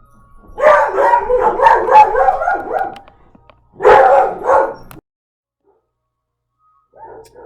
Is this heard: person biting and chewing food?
no